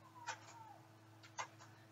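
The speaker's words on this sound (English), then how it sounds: "It's actually a cat" A cat meows, two faint drawn-out cries about a second apart, soft and somewhat distant over a low steady hum.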